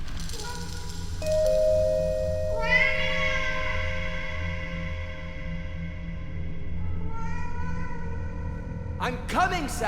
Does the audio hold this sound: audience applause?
no